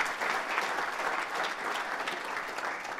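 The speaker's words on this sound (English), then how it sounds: "Big round of applause." Audience in a small-business pitch competition applauds after a pasta sauce pitch, a continuous, even patter of many hands heard from a distance and fairly faint.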